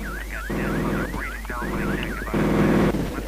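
A car alarm set off by a truck at a roadblock in the shooter game F.E.A.R. Perseus Mandate, with a loud close warbling siren that rises and falls over and over and pulses in repeated bursts.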